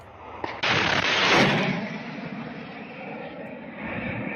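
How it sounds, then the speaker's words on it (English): Shoulder-fired MANPADS missile launched by a Ukrainian soldier at a helicopter: a sharp launch crack followed by a loud, broad rushing roar that slowly fades into steady outdoor noise. "Video of Ukrainian soldier launching an Eagle of man pads, and he shoots down a helicopter."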